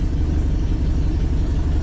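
A 1961 VW Beetle engine idles at roughly 650-700 rpm, a steady, close, low rumbling chug with even loudness and no voices over it.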